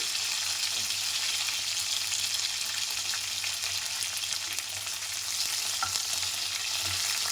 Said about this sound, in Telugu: పచ్చిమిర్చి కొంచెం ఫ్రై అయ్యాక పుదీనా వేసుకోవాలి కొంచెం పుదీనా